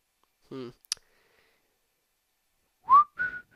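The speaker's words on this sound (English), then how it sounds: "Sorry if I deafened your ears from whistling, because it just blew in the mic" Short bursts of close whistling blown straight into a microphone, with a brief click and gaps of silence between them; a few short vocal sounds come before the loudest whistles.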